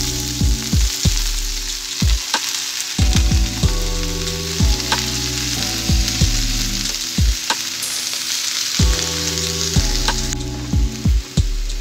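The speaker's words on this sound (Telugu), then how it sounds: "ఎండుమిర్చి ఫ్రై చేసుకున్న ఇదే ఆయిల్లో పాలకూర వేసుకోవాలి." Spinach frying in oil already used to fry dried red chillies, a steady loud sizzle with repeated stirring knocks and scrapes from the pan, with no talk.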